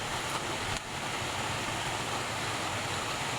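A clear, clean river in a rural village runs with a steady broadband rush of flowing water, constant and fairly close, with no voices over it.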